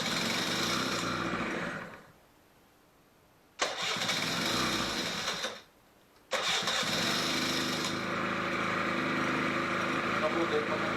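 A Honda Gyro X scooter engine, revived after ten years with excess oil still in the cylinder, runs loud and rough close by, cutting out twice for about a second each time before catching and running again.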